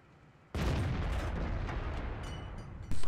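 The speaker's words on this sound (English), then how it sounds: "I shot right over top of him." Cannon shot in a tank video game: a sudden loud blast bursts in and rolls on as a heavy, sustained rumble, with a second jolt near the end.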